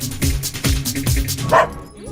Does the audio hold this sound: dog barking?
yes